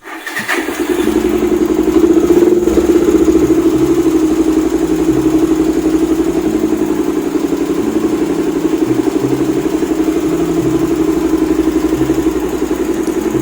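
A Suzuki Thunder 250 motorcycle with an ignition fault cranks briefly and fires up, then settles into a steady, close, loud idle with an even low thumping rhythm throughout.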